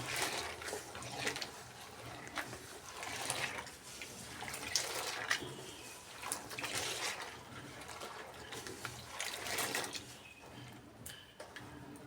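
Food being washed in a bowl of water: soft sloshing and swirling with scattered light clinks and splashes, fairly quiet and continuous throughout.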